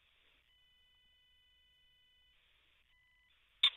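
A German phone network emits a thin, steady electronic tone during a voicemail, faint and continuous with brief breaks, ending in a sudden short click.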